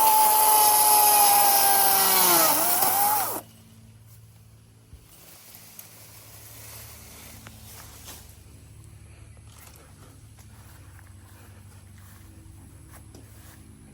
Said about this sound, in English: Chainsaw. Chainsaw.